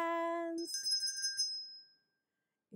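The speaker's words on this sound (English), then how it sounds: "If you like the blue bell," A sung note gives way to a single bright bell ding that rings out clearly and fades over about a second, followed by near silence.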